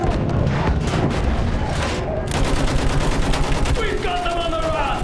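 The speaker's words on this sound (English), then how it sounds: "Use that machine gun! Mow them down!" Dense machine gun fire in the Battlefield 1 video game, loud and continuous with explosions and battle din mixed in, and shouted voices in the background.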